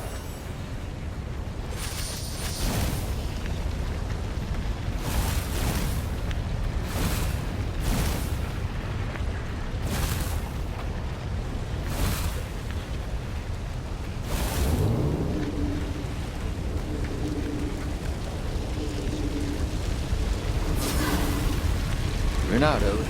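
Cannon traps firing inside a temple in the video game Stories: The Path of Destinies: a run of heavy, booming blasts at uneven intervals over a constant rumbling game ambience.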